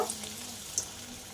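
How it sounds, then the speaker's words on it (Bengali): Coconut fritters dropped into hot mustard oil sizzle steadily at close range, with a soft crackle throughout and a brief louder splash near the middle. "তেল গরম হয়ে গেছে, বড়াগুলো এবার ছেড়ে দেব।"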